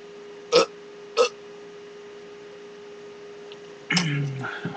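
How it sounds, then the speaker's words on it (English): Two short, sharp burps come in quick succession over a faint steady hum, followed a few seconds later by a longer, rougher burst. "See the burps."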